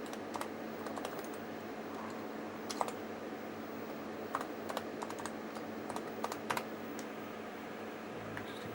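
Typing on the keyboard of a Quantel DPB-7001 video graphics system under restoration, a run of irregular clicking keystrokes with short pauses over a steady equipment hum.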